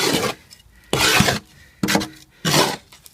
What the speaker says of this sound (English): I'll just show you with the trowel